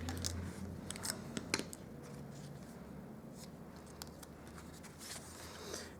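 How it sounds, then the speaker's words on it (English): Scissors cutting paper for a handmade reindeer card, making a few quiet, sharp snips early on, then soft rustling and handling sounds at low volume. "Grab my scissors."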